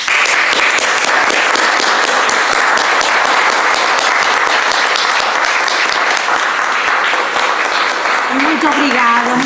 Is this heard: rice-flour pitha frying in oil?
no